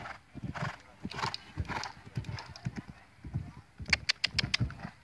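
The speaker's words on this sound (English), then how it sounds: "That's a good horse." A mare in a show-jumping setting neighs and whinnies close by while her hooves clip-clop in an uneven rhythm, with a brief flurry of sharp hoof strikes near the end and no clear speech.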